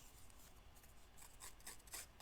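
Scissors fray the sides of fabric strips with soft, faint scraping and snipping rubs, a few brighter bursts near the end, close but very quiet, with no talking.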